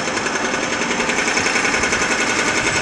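Continuous rapid hammering of a jackhammer-like machine doing street repair work in Kharkiv, loud and steady throughout with no pauses.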